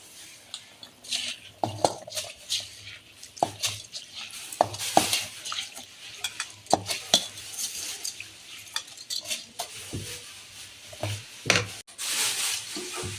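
Bubbling, rolling water in a pot with scattered clinks and scrapes as rice is poured and stirred in for chicken biryani, no talking.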